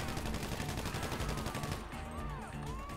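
Gunfire in the video game GTA 5, a rapid stream of automatic shots crackling continuously and loudly, thinning after a couple of seconds into scattered reports, with no talk.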